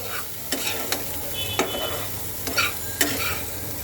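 Turmeric, coriander and cumin powders sautéing in a pan for a fish curry with green peas, a low sizzle broken by sharp spatula scrapes and taps against the pan at irregular intervals, close up, no voices.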